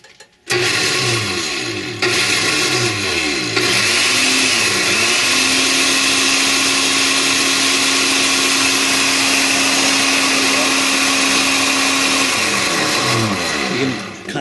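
A blender whirs loudly as it mixes a powdered prostate formula, starting up abruptly, settling into a steady high-speed drone with a rising and sustained motor tone, then winding down near the end.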